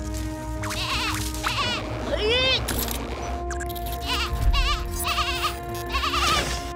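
A frightened little lamb in a kids' cartoon gives repeated wavering, high bleats against a background music bed, while cartoon voices talk between and over the cries.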